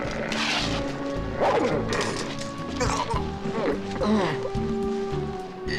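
A dog barks repeatedly in a busy movie scene, its sharp barks mixed with crashing noise, hoof-like clopping and a dense background of other sounds.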